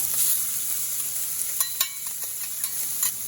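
Ginger and garlic stir-frying with shrimp in a pan, giving a steady bright sizzle broken by a few soft scrape and stir clicks near the middle and end.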